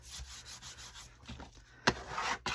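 Paper is burnished by hand to smooth out wrinkles while making junk mail accordion pockets, giving a series of soft rhythmic rubbing strokes up close, then a sharper scrape and a few quicker rubs.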